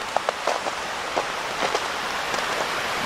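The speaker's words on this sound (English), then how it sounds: "You can hear that water rushing" Brush Creek water rushes over a small waterfall under the Packsaddle covered bridge in Pennsylvania, a constant broadband hiss with scattered splashy spatters and droplet-like ticks, heard close and alone.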